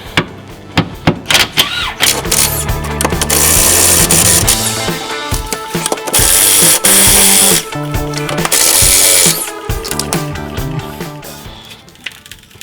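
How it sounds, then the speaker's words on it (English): A rattle gun with a 10mm socket undoes a car's sway bar bracket in loud bursts of buzzing impact rattling, several short hits, then two sustained runs of hammering, with clanks of handling between them. "just need a 10mm socket on a rattle gun, or use a ratchet if you haven't got one"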